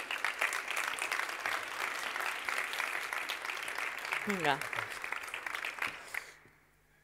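An audience applauds steadily for a speaker at a talk on fiber optics and road traffic control, dense clapping that fades out near the end, with a short spoken word over it.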